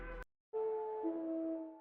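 Synthesized tones for ambient indie music drenched in reverb: a short note cuts off into silence, then two sustained notes ring out with long, washy tails, fairly loud and alone.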